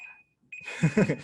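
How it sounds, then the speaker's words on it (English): An alarm tone goes off in the middle of a talk on building a speaking business, a steady electronic beep held under a voice as he speaks over it. "Sorry, that's my alarm."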